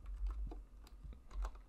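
Short burst of typing on a computer keyboard during a JavaScript coding session, with several quick, close key clicks in an uneven rhythm over a quiet background.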